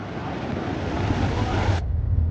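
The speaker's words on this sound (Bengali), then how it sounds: "সমুদ্রের ঢেউ একেবারে এখানে ছিটকে চলে আসছে" Sea surf surging up a beach near Tajpur in rough conditions, a steady loud broadband wash with wind noise that cuts off sharply near the end, leaving a quieter low rumble.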